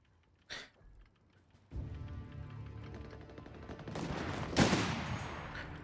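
MG42 machine gun fire in Company of Heroes 3, a rapid continuous burst of shots that swells from mid-clip under other battle noise, after a couple of isolated earlier cracks, with no voices.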